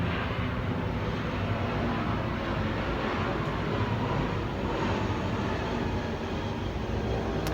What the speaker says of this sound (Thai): เครื่องบินมันบินต่ำมันเสียงดังมากอะ